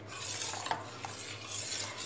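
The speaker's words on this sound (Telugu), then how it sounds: "ఉండలు కట్టకుండా జాగ్రత్తగా తిప్పుకోండి" Custard being stirred in a thick, wide pot, a soft rhythmic scraping of a spoon against the pot bottom with a couple of light clinks, close and steady over a low background hum.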